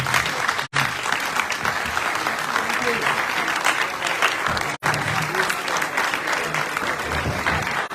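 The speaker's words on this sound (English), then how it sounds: "Please, Una, stand up and let me applaud them." Applause from an audience thanking city councillors at a Freetown City Council farewell event: steady, dense clapping fills the whole stretch with a couple of brief dropouts, and voices murmur underneath.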